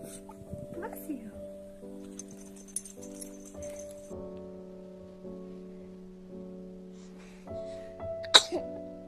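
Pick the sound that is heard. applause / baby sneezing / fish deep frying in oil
baby sneezing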